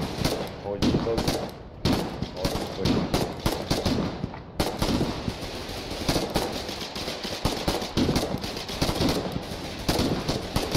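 Dense, continuous gunfire in the war game Foxhole, with rapid machine-gun bursts and overlapping shots rattling steadily throughout, with no pause in the shooting.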